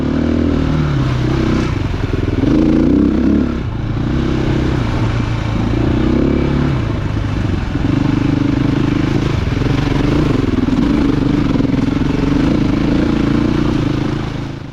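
Off-road motorcycle ploughing through deep, sloppy mud on a steep incline at old St. Joe, its engine loud and steady throughout with rising and falling revs, plus scattered clatter and scraping.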